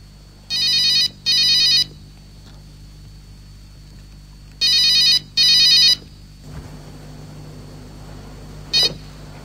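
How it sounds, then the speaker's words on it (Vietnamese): A mobile phone rings on a theatre stage during a Hanoi Drama Theatre play, giving two pairs of loud electronic ring bursts separated by a pause, followed by a quieter hum and a brief final beep. "Điện thoại."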